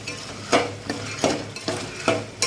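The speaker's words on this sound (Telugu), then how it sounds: "మొత్తం అన్నీ కూడా శుభ్రంగా ఫ్రై చేసుకోండి జీడిపప్పు లాస్ట్లో వేస్తే మాడదు" Cashews, asafoetida and other seasonings frying in a pan for temple-style pongal, a constant sizzle broken by regular scraping strokes of a spoon stirring about twice a second, close and fairly loud.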